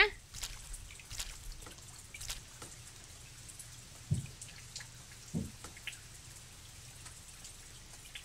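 Quiet, sparse drips and light patter of rain in the video game Silent Hill 4, with a couple of soft taps standing out against a faint background.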